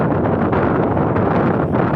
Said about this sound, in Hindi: कते हवा चलै छै देख